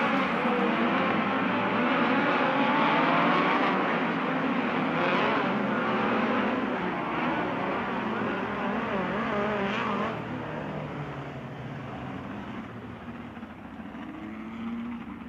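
A pack of race cars roars together at the start of a ten-lap USAC heat race on the Bakersfield track, a loud, dense, sustained engine rumble that eases slightly as the field moves away.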